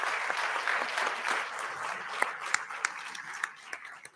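A large conference audience applauds steadily, a dense wash of many clapping hands that thins into scattered individual claps toward the end.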